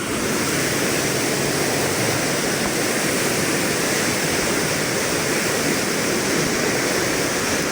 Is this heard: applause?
no